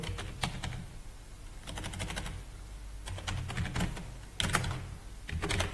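Clicky keystrokes on a computer keyboard come in irregular bursts with short pauses, close and moderately loud, with no talk while a beginner Python string example is typed.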